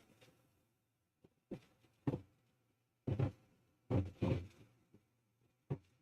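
Scattered thuds and clunks from a 3D printer's head jumping quickly between points, irregular and fairly faint, with quiet gaps between.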